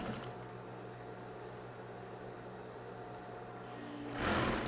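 A sewing machine stitching a folded bathroom rug, its motor running as a steady close whir throughout, with a louder burst near the end.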